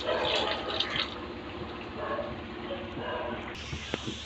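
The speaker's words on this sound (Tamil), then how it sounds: "இப்போ 3 ஆழாக்கு தண்ணி ஊற்றிக்கிறேன்." Water poured steadily into a cooking pot to measure liquid for vegetable biryani, a continuous close splashing and trickling fill with small drips, running alone without talk.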